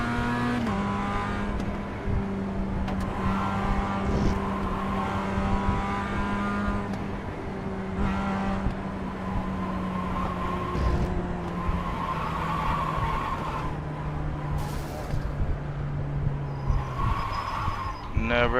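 A Mazda MX-5 race car in iRacing drones and revs steadily, its engine pitch rising and falling through shifts, with a brief skid, while someone talks over it.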